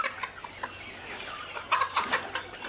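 Layer hens on a poultry farm cluck in short, scattered bursts as they are moved into new cages, growing busier and louder toward the end over a faint steady hum.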